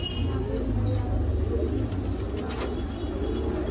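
A Khatang high-flying pigeon, a Meerut breed, coos softly and repeatedly nearby against low background noise, with no one speaking.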